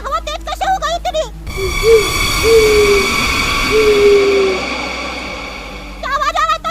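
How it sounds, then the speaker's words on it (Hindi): An owl hoots on a windy, rainy night in an animated Hindi horror story, giving a few drawn-out, wavering calls in the middle while voices talk before and after. "उल्लू भी चिल्ला रहा।"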